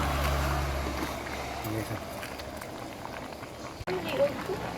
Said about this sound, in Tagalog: kumukulo na guys. Malapit na maluto to